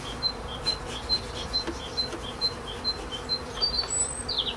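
Honeybees buzzing steadily during a March hive inspection, a close, even hum with soft regular pulses and a few faint bird chirps behind, and no one talking.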